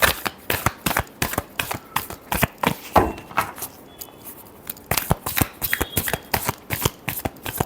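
Tarot cards shuffled by hand during a card reading, a rapid run of crisp riffling snaps and slaps with a brief pause partway through before the quick shuffling resumes close by.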